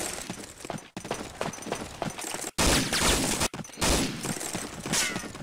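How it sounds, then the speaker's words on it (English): Airstrike in the video game Day of Defeat: a dense, loud barrage of blasts and crackling gunfire-like bursts, broken by a few sharp cuts, rolling on continuously. "Airstrike inbound."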